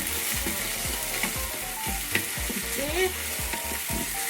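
Ginger stir fry sizzling loudly in a hot pan with dark soy sauce, the frying hiss broken by regular scraping stirs of a utensil, close and continuous, with one brief spoken word.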